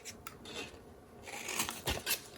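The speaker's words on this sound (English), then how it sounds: "we want to do is just angle cut these pieces here" Scissors angle-cut pieces of a cardboard candy box in short snips and rustles, with two louder crisp cuts near the end, close up and without talk.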